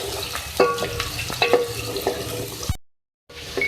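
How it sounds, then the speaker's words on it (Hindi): Whole spices, green cardamom, cloves and black peppercorns, frying in oil in a pan for a beef Balochi aloo gosht: steady close sizzling with stirring scrapes, cut by a brief silent gap before the frying resumes. "इसको फ्राई करेंगे थोड़ा सा।"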